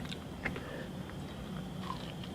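Crunchy food, eaten alongside durian sticky rice and sweet bitter melon, is bitten and chewed close up, with a few crisp crunches over soft, steady mastication and no talking.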